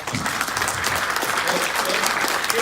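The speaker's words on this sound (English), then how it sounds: "Big round of applause." Audience applause for a conference panel on the space economy, a full, even burst of clapping from a sizeable crowd, loud and close throughout the short stretch.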